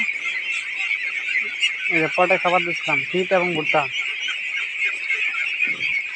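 Domestic ducks on a farm, some eating and some drinking, honk in a rapid burst of repeated nasal calls midway through, under steady background hiss while someone talks over them.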